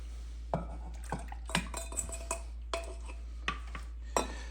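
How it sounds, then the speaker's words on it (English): Egg mixture being stirred into hot milk in a pot for bourbon crème anglaise, a spoon repeatedly scraping and clinking against the pot in an irregular rhythm, close and fairly quiet over a low steady hum. "Go ahead and stir."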